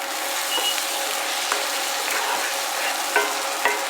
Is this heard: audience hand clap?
no